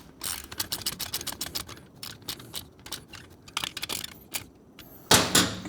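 A ratchet wrench tightening a fastener on a Predator carbon exhaust fitted to a Triumph Bonneville T100/T120, close rapid bursts of sharp clicking with short pauses between strokes, then a louder final clatter, with no talking.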